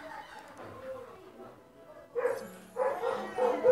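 Cartoonish dog barks from the Crossy Road video game, a few short yaps bursting out in the second half over a soft, steady game backdrop.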